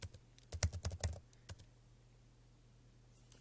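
Quick burst of typing on a computer keyboard, about a dozen close, crisp key clicks in the first second and a half, then a couple of stray taps and near silence.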